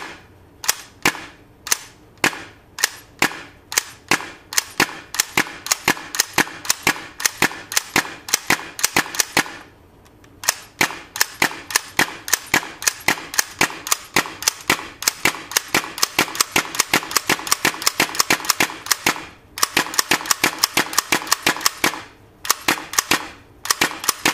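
A WE M4/M16 gas blowback airsoft rifle fires on full auto, sharp loud cracking shots in rapid bursts, repeating for most of a magazine with short pauses between strings.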